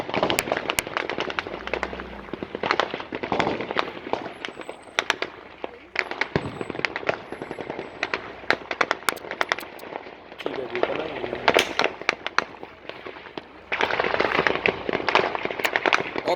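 Gunfire at a military shooting exercise with Tajik and Kyrgyz soldiers cracks out in repeated sharp bursts and single shots across the range, loud and irregular, with shouted voices mixed in.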